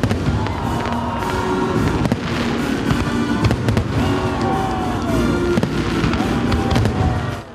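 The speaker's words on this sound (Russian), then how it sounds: "Завершился праздник красочным салютом." Rapid festival-finale fireworks pop and bang in bursts with crackling and whistling, while a crowd cheers faintly in the background.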